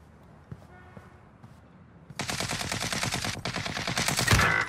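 Rapid automatic gunfire in a first-person shooter video game, starting after a quiet lead-in of faint clicks and then firing in a dense continuous burst with a brief pause, close and loud.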